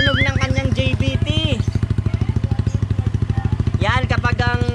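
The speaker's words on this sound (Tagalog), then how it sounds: "pakinggan natin mga paps yung tunog ng kanyang JBT" A motorcycle fitted with a JVT exhaust pipe idles on an open carburetor with a steady, rhythmic putter. Someone speaks over the engine at the start and again near the end.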